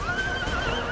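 Horses neighing and whinnying in battle in Empire Total War, a steady high whinny sweeping across the whole moment over a dense background rumble of combat.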